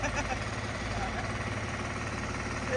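A tractor engine idles with a steady, low, throbbing rumble nearby, continuous throughout, during levelling of flood-damaged farmland.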